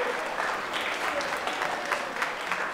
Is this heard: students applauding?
yes